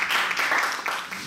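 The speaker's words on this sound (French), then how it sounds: "Applaudissez." An audience applauds a performer called up at an open-mic stage night: a brief, fairly soft patter of many hands clapping, steady throughout with no talking.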